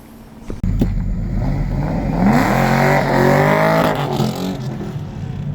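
A Ford Mustang GT with a 4-valve engine swap revs loudly and close up at a car meet, its engine rising and holding in a sustained, throaty roar before easing slightly.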